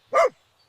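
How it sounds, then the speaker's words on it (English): One short, clear dog bark, close and fairly loud, a single yap lasting a fraction of a second and then silence. "D is for dog."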